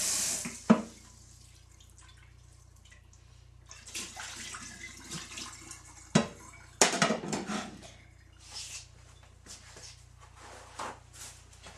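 Tap water runs into a pan as it is rinsed clean in a sink after being scrubbed with salt, with a steady close splashing wash, clanks of the pan and a few sharp knocks.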